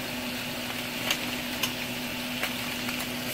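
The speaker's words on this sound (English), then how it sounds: "I'm going to let this saute until the shrimp is cooked" Shrimp sautéing in butter in a pan, a steady soft sizzle and hiss with a low hum underneath and a few faint clicks.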